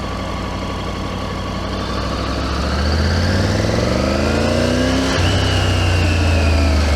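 A 2024 Triumph Tiger 900GT motorcycle engine idles with a low rumble, then gently accelerates, the pitch climbing steadily and briefly dipping before rising again, loud and close throughout.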